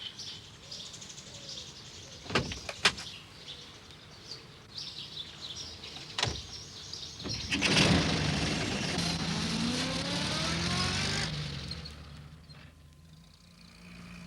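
A cartoon postman's van drives along a sunny country road, with a low engine hum that swells into a long revving, rising pass over several seconds, after a few sharp knocks and light birdsong, and then fades away.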